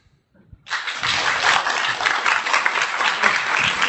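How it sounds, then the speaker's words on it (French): Applause bursts out from an audience at a political party congress after a brief quiet, then holds as a dense, steady wash of clapping through to the end. "Je propose de tester cette proposition à l'applaudimètre."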